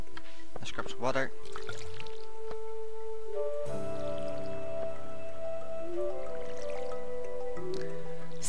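A watering can is filled with water in the farming game Stardew Valley. Splashy pouring and dripping effects run steadily for several seconds over light background game music.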